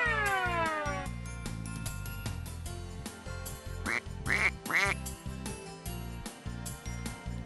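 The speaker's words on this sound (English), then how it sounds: "That's a duck!" Cartoon-style duck quacks, a short burst of three bright quacks in the middle, played over a steady bouncy music loop that continues throughout.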